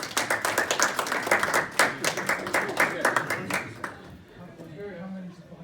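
A comedy club audience claps and cheers loudly for a comedian as he takes the stage, the dense applause fading out after about four seconds into quiet room tone with a voice.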